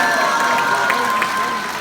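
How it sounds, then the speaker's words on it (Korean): A crowd at a public debate forum on conservative unity applauds loudly and continuously, with cheering mixed into the dense clapping throughout. "뜨거운 박수 부탁드리겠습니다"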